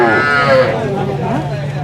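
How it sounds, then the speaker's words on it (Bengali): Cattle at a busy cattle market selling small and medium bulls, one close, loud drawn-out moo that falls in pitch, with faint background murmur. "দেখেন প্রচুর পরিমাণের গরু পাওয়া যায় এই হাটে।"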